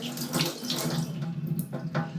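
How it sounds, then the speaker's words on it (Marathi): Water runs steadily from a kitchen tap at strong pressure, splashing into a sink while a child washes dishes and a spoon, a continuous close rushing hiss with no talking over it. "नळाचं प्रेशर कमी कर."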